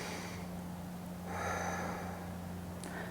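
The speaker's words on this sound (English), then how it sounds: "Take another inhale." One deep inhale during a morning vinyasa yoga flow: a soft, rising breath that swells near the middle of the clip over low steady background hum, with no talking.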